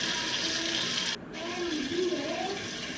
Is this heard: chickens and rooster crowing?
no